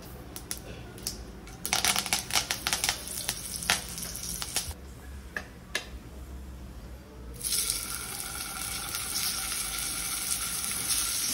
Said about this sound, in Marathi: आणि आता या टिक्की मी फ्राय करून घेते.